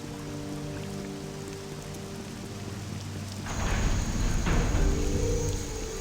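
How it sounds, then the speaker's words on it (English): Steady rain falls in the video game Morrowind, a continuous hiss that grows heavier and louder partway through, with a constant low ambient hum underneath and no talking. "It do be raining a bit."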